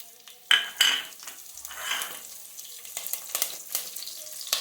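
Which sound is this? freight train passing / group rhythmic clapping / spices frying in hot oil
spices frying in hot oil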